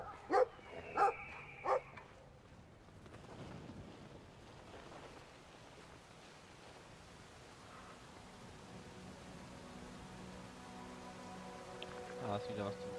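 Dog in the video game Brothers: A Tale of Two Sons gives three quick barks at the start, then steady rain-like ambience and water noise continue for the rest.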